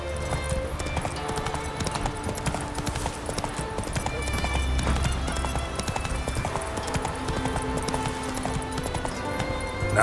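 Roach, a horse in The Witcher 3, gallops in quick rhythmic hoofbeats over a busy game soundscape, with a brief whinny and steady background mixing throughout.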